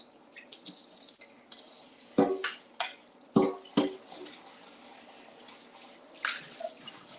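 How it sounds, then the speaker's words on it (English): Running tap water splashes over hands in a kitchen sink, with short bursts of rinsing and splashing that rise and fall, close by and moderately loud, with no talking. "Clean my hands, rinse out."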